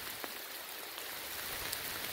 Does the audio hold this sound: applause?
no